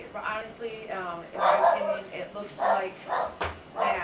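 A pet dog barks and yips in several short bursts at close range, mixed in with someone talking over it in a home setting.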